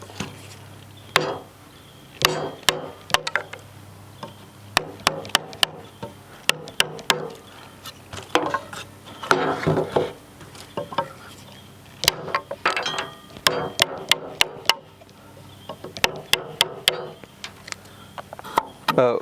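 A steel chisel is struck with a mallet to pop out waste wood on a sawhorse build, giving irregular sharp knocks and splintering cracks at close range, in scattered bursts separated by short pauses.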